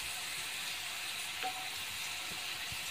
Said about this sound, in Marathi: तीन ते 4 मिनिटं आपण छान हे तळून घेतलेले तर मगच पलटी केलेली आहे